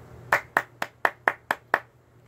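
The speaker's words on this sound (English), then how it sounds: "I'm going to give you an applause" Seven sharp hand claps in an even, brisk rhythm, close and clear, with no talking.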